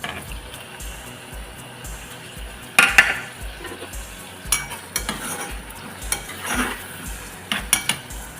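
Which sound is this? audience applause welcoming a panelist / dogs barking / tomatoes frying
tomatoes frying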